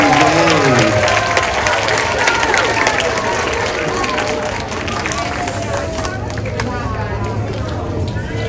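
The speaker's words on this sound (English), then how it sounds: "let's hear a big round of applause and cheers for all these students" Loud, dense applause and cheering from a crowd of school students, a steady wash of clapping with shouts and voices mixed in that eases slightly partway through.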